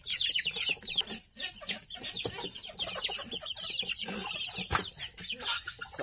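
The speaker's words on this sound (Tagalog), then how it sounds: "dito nakalagay yung mga bantam chicken" Bantam chickens clucking steadily on a farm, several birds close by with overlapping short clucks and calls filling the space, no talk heard.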